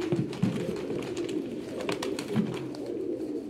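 Pigeons coo in soft, low, repeated calls close by, with light fluttering and background chatter of birds mixed in, no talk heard.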